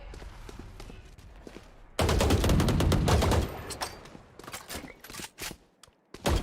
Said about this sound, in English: Chamber shooting into the smoke, trying to get a line of sight kill.